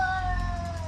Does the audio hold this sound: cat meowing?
yes